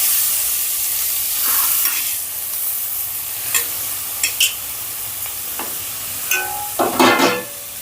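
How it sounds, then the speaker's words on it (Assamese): Grated carrots frying in melted ghee over a high gas flame, a loud, continuous close sizzle with occasional sharp stirring scrapes and clicks of a spoon in the pan, with no talking. "আৰু এতিয়া মই এইখিনি ভাজি ল'ম।"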